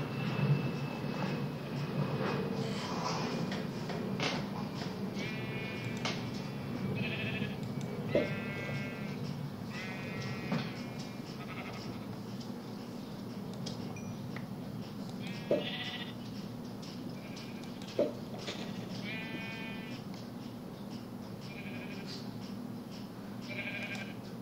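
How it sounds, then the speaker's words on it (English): Sheep bleat repeatedly over a steady low outdoor hum, with several wavering calls spaced through the stretch, some close and some farther off, and a few faint knocks between them; nobody talks. "Sheep."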